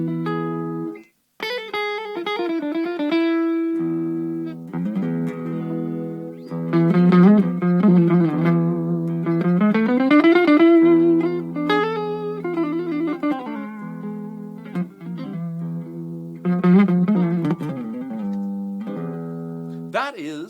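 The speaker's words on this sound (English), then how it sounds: "that is the sound of the E Phrygian major." Electric guitar playing in the E Phrygian major mode, a continuous neoclassical run of bending, sliding single notes over a sustained chord, with distortion and reverb, played alone without talking.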